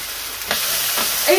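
A Bovril-seasoned rib-eye steak sizzling on a hot griddle, a loud steady close fry with a few brief scrapes or bursts of hiss.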